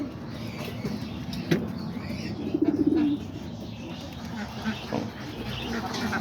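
Roller pigeons coo softly in a backyard loft alongside other birds, a few low throaty calls rising over a quiet outdoor background, with faint duck sounds and occasional voices nearby.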